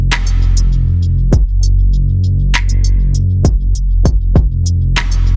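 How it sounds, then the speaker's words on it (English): Dark R&B beat built on two chords, with an evolving synth bass that swells and trails off in long tails under steady kick hits, loud and continuous throughout with no voices. "And then if we listen to the evolving one on the chorus, sounds like this."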